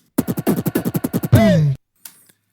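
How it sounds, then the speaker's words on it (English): A short beatbox fill: a quick run of about a dozen punchy mouth-made percussive hits, then a longer voiced sweep and a faint tail, close and dry with no other sound. "I want to add this little beatbox fill"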